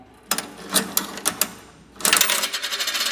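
The coin mechanism of a Triple Shop bulk candy vending machine turned slowly, a series of sharp metallic clicks and ratchet snaps, then a rapid run of close clattering clicks.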